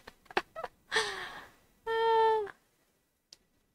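A human voice imitates a cat with a drawn-out, whiny meow, preceded by a few soft mouth clicks and a breathy vocal sound, close and fairly quiet, followed by near silence.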